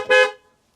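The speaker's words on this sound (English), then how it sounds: "The horn, it's good." A single short, loud honk from a Peugeot 307 car horn, close by, clear and bright, cutting off quickly into silence with no voices around it.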